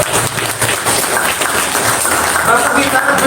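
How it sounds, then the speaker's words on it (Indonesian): An audience at a Democrat party cadre gathering claps steadily in a loud, continuous wash, with voices talking underneath. "tepuk tangan dulu dong kita"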